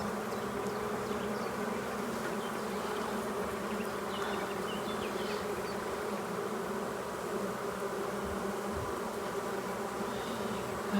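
Honeybees at an apiary during a transfer from a nucleus box to a full hive, a dense, steady buzzing swarm close around, continuous and even for the whole stretch with no talking.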